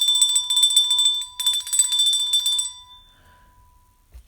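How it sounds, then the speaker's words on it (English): A bright, ringing bell sound effect, loud and sustained with a harmonic tone, playing for about two and a half seconds before fading out. "Give me the bell."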